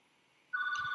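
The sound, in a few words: hotel room telephone ringing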